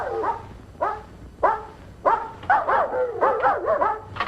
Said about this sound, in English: What are they barking about?